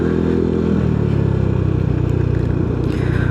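A motorcycle engine drones steadily and loudly while riding uphill toward a steep climb in Majalengka, Indonesia, with a constant rough rumble and no talk.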